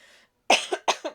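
A woman teaching a class coughs twice in quick succession, each a sharp close burst with a throat-clearing tail, after a faint breath.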